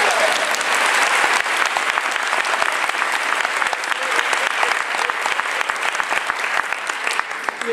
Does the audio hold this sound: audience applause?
yes